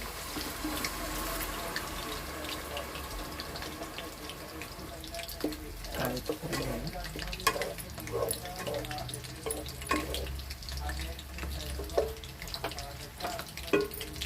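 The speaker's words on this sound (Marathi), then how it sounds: "ते पाणी आपण याच्यामध्ये घालणार आहोत" Hot water pours and splashes into a pot of chicken lollipop biryani for several seconds, with sizzling and a few clinks, close by and moderately loud.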